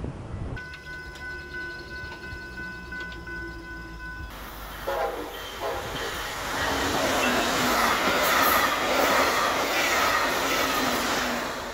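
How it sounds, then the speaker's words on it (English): A Brightline passenger train's horn sounds in a long sustained blast, then the rushing roar of the passing train builds and rumbles on loudly. "The Brightline passenger trains pass nearby as they zoom north and south"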